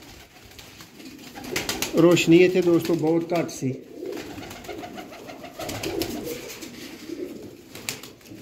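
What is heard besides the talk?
pigeons cooing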